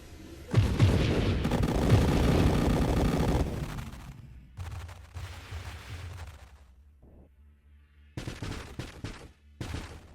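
Armor-piercing missile explosions in the space shooter game Nova Drift: a dense burst of booming, crackling blasts for several seconds, then scattered quieter pops and further loud bursts near the end, with no talking.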